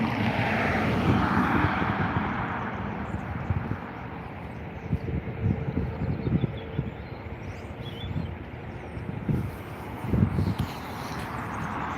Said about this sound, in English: So the Egyptair has just begun its takeoff roll, heading over to Cairo